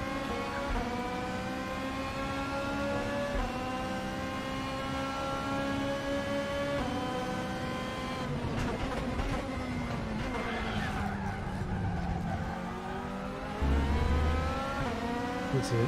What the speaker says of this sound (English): Nice flutter on the engine as you change gear.